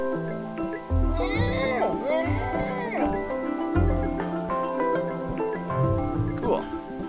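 In the puzzle video game Machinarium, a cartoon cat lets out a couple of drawn-out, wavering meows near the start, set against game music and someone talking.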